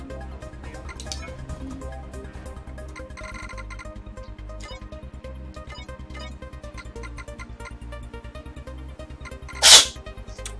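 A single sharp sneeze bursts out near the end, loud and close, over quiet background game music and effects.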